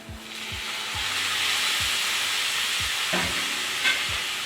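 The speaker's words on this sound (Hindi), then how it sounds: "इसे आखिरी बार अच्छी तरह से मिला लेंगे" Jeera aloo sizzles steadily in a hot pan after a squeeze of lemon juice, with a spoon scraping and stirring in regular strokes close by.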